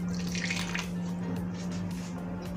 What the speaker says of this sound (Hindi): यहाँ पर अब हम इसे डाल रहे हैं प्लास्टिक की बोतल के अंदर तम्बाकू वाला पानी